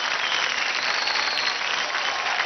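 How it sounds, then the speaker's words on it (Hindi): Loud, dense audience applause after a dance performance on a TV dance competition stage, continuous clapping with no break. "जोरदार तालियां हो जाए सेसिल और जय कुमार नायर के लिए"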